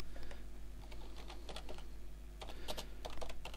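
Fast bursts of clicky keystrokes on a computer keyboard while renaming a chapter, close and fairly soft over a steady low electrical hum.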